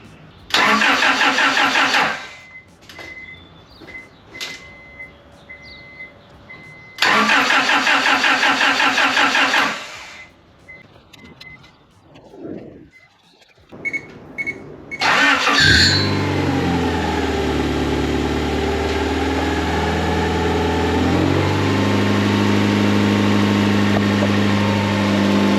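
A Honda Prelude's starter grinds in two long cranking bursts with pauses and rattles between, then the engine catches and settles into a loud, steady idle that rises slightly near the end.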